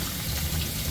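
A brief, steady rush of running water pours over sprouting seeds in a jar, close and continuous.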